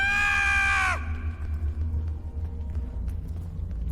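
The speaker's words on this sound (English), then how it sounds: "He screams like a little girl." A character in the Star Trek Online video game lets out a single shrill, high-pitched scream that cuts off after about a second, leaving a low rumbling background hum.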